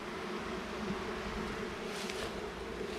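Honey bees buzz steadily around open hives while the queens are being checked, a continuous close drone with no pauses and no talk.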